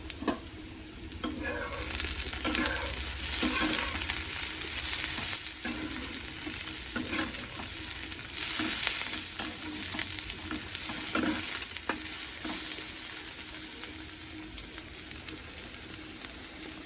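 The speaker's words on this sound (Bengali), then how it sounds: "এদিকে ভাজাটা তো হচ্ছে একটু নাড়া দিয়ে দিই" Eggplant fritters in rice flour batter sizzle steadily in hot oil while being stirred, with scattered scraping clicks from the utensil over a continuous close frying hiss and no talking.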